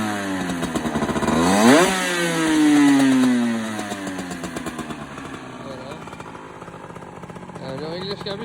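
A Sherco 50 motorcycle engine runs nearby in warm weather with its carburettor tuning off, revving up sharply once, then settling into a rough, buzzing idle.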